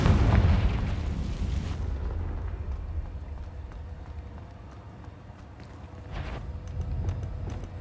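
Confringo spell explosion in Hogwarts Legacy, a heavy booming blast at the start that fades into a low rumble, then a second, softer blast near the end.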